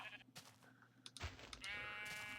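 Minecraft sheep bleat a few times amid game sounds and clicks, the calls fairly clear but low in level, with a rising electronic whine toward the end.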